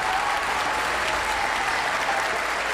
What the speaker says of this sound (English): let's do one more big round of applause for Dr. Nick Swain for that amazing scholarship